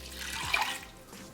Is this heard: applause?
no